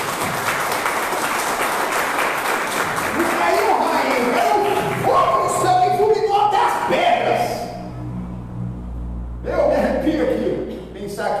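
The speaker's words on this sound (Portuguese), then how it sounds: "uma linda salva de palmas" Church congregation applauding during a worship service, a broad wash of clapping that swells for several seconds, with voices and speech mixed in and a sustained organ-like tone toward the end.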